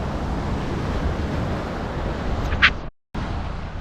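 Waves on a Miami Beach shore, a broad washing roar blended with wind buffeting the microphone, steady then cut by a brief dropout near the end.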